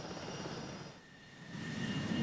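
F-18 Hornet jet fighter engine as a steady broadband roar with a high whine, dipping briefly and then swelling louder toward the end, with no voices.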